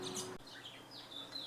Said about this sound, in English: the birds are going to start chirping